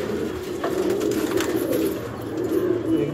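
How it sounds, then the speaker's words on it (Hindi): A flock of pigeons kept for sale coos softly in a low, continuous murmur, with faint chirps and occasional higher calls over steady background noise. "देखो आप यहाँ पे कितने कबूतर हैं"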